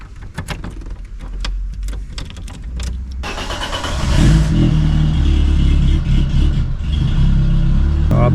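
A Peugeot 205 off-road car fitted with an Audi key is started. Some clicks and rattles come first, then the engine catches and settles into a loud, steady idle with no talking.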